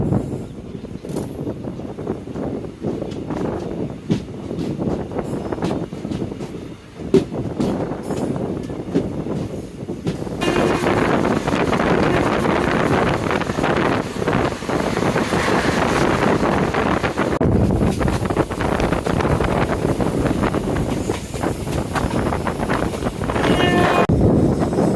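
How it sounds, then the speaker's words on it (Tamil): Intercity express train running on rails, a steady broadband rumble and wind roar that grows louder and fuller about halfway through, continuous to the end with no talking. "ட்ரெயின் மூவ் ஆயிடுச்சு"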